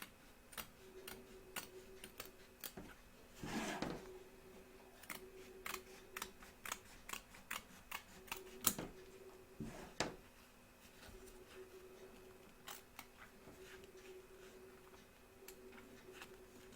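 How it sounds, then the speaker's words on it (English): Small scissors snip fabric around the edge of an embroidery hoop for a Statue of Liberty appliqué, a quiet series of sharp, close clicks at an uneven rhythm, alone with no talk. "So turn your hoop over and trim around the edge, taking care not to cut any of your stitches"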